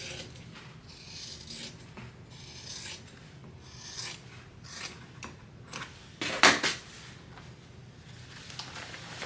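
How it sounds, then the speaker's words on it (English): Scissors trim the seam allowance on sewn fabric while a pocket is being assembled, giving soft, intermittent rasping snips and rubs close by, with one sharper cut near the end and no talking. "Trim your seam allowance down."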